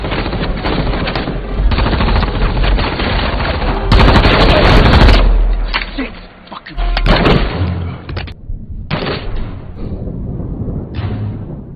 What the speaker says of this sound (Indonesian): tiba-tiba mereka diserang oleh Bates hingga terjadilah baku tembak